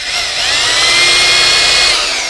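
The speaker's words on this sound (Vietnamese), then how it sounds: "đó là chức năng khoan thường." Japanese-market cordless power drill running steadily in regular drilling mode, a loud continuous high-pitched whine that holds even throughout with no talking over it.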